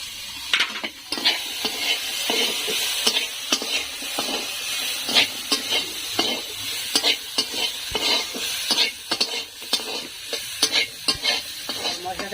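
Turmeric, chili powder and Kashmiri chili powder sizzle and fry in a pan while a utensil stirs and scrapes repeatedly, steady close-up frying hiss with irregular clattering strokes, no talking.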